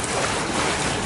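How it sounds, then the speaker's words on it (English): A freestyle front crawl flutter kick churns the water surface, giving a dense, steady, close splashing wash with no pauses. "This is the sound of my kick kicking the water."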